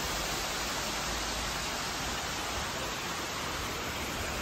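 Water spilling down a waterfall at Tadao Ando's concrete Garden of Fine Arts in Kyoto, a constant dense rushing wash that holds steady without any talk.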